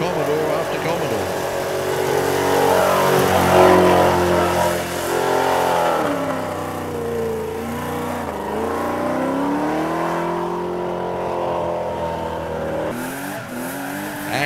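An old Holden Commodore revs hard during a burnout at the Easternats pit lane, its engine note rising and falling close by with tire noise, while someone talks over it.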